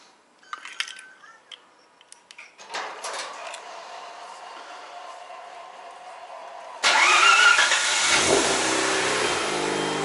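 A Mazda RX-8 rotary engine starts after a quiet buzzing fuel pump prime, catching abruptly and settling into a loud, steady idle, heard up close.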